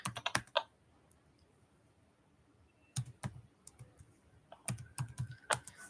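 Python code being typed on a computer keyboard, short clustered bursts of crisp key taps separated by a quiet pause, close and clear with no voices.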